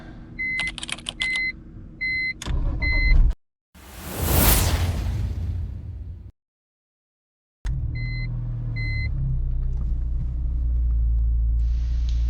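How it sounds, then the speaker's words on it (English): A BMW E46 M3 cold-starts: dashboard chimes sound, the engine cranks with a loud rising whoosh, then after a pause it settles into a steady, low, rumbling idle. "see how this thing cold starts."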